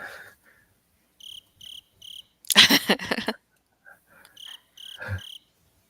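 Crickets chirp as a played sound effect in short, evenly spaced trilling bursts, clear and isolated against silence, interrupted once by a loud, noisy burst of another sound.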